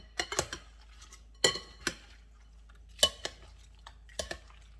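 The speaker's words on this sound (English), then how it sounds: "So I'm just get a spoon, mix it all together" Metal spoon scraping and clinking against a bowl while mixing breaded bang bang shrimp with sauce, several separate sharp clatters spaced out over a few seconds, close and fairly quiet with no voices.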